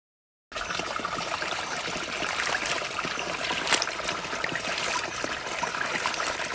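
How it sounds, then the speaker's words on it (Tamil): Tap water runs steadily in a continuous trickling stream while live crabs bought at the Mullaitivu beach are rinsed for a crab curry, fairly close and with no talking. "நண்டை முதலில் கழுவி எடுத்துக்கொள்ளவும்."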